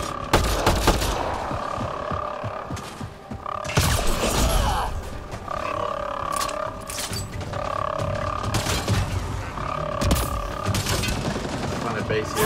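Heavy artillery and gunfire in the Mass Effect Andromeda video game, repeated loud booming blasts and rattling volleys over a droning mechanical hum, with a voice talking throughout.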